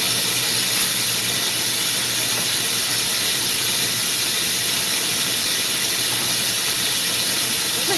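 A glassblowing torch flame hisses loudly and steadily, close and unbroken, as it heats a glass piece being shaped into a banana.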